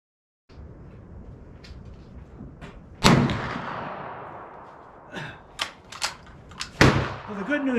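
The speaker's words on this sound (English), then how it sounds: "So now we're going to shoot the Barnes 54 caliber Barnes at 2 3/4." A 20 gauge shotgun fires a Barnes 54 caliber copper sabot slug in a 2 3/4 load: one sharp, loud blast with a decaying echo, then several clanks and thumps and a second sharp report near the end.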